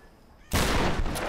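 Gunfire in the Tomb Raider video game, a sudden loud burst of rapid shots that keeps blasting for under a second after a quiet start.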